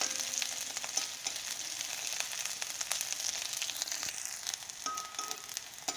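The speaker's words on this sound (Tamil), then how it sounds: "வெங்காயத்தையும் நல்லா பொன்னிறமாக செவக்க வறுத்துக்கலாம்." A handful of small onions fry in oil for garlic chutney, giving a dense, continuous close sizzle with faint crackles and occasional stirring throughout; no one speaks.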